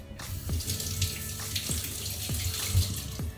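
A cucumber rinsed under a running kitchen tap, a steady close splashing stream with water breaking over the vegetable and a few soft knocks against the sink.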